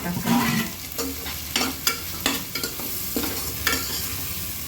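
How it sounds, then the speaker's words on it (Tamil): Chopped tomatoes for chicken biryani sauté in a pan over a slow flame, giving a steady close sizzle with repeated scraping stirs and no voices. "கொஞ்சம் ஸ்லோ ஃப்ளேமில் வச்சு கொஞ்சம் வதக்கணும்"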